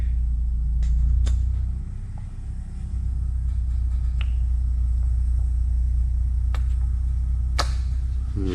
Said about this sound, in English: This is the adjustable speed DeWalt polisher.